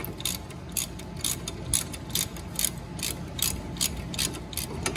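A ratchet loosening 19 mm brake bolts on a Fiat 500 Abarth, ticking in quick, even clicks close to the microphone, with no talking.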